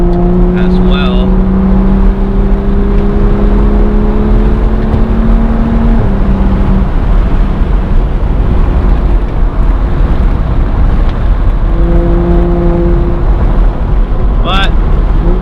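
Loud in-car drive in a BMW 135i with a straight-pipe exhaust: a steady engine drone with rising and falling tones as it accelerates and shifts, mixed with road and wind rumble, while a person talks over it.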